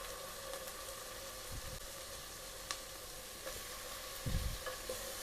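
Chicken pieces sautéing with onions in a pan for red chicken kabsa, a steady low sizzle with a few soft stirring scrapes and a brief clatter near the end, no talk.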